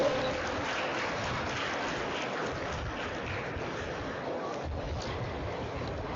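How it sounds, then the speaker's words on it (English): An audience gives a round of applause to welcome panel members at a nonwoven technology conference in an exhibition hall. The clapping is steady, diffuse and somewhat distant, and it carries unbroken through the whole stretch. "Everyone, come on, let's welcome our esteemed panel members with a huge round of applause."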